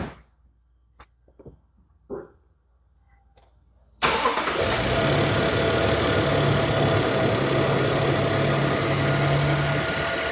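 A 2024 Toyota Tundra Platinum CrewMax 4x4 with a 10-speed automatic fires up after a few quiet clicks, its engine catching abruptly and then settling into a loud, steady, close idle with a low hum that holds to the end.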